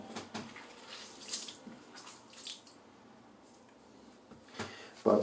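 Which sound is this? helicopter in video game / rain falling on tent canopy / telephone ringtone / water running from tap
water running from tap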